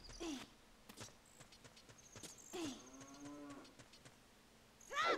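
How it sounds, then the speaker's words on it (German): Cows moo repeatedly in a Zelda video game, three drawn-out lowing calls spaced a couple of seconds apart, mixed with clip-clop hoof sounds and small game effects. "Warum höre ich die ganze Zeit eine Kuh?"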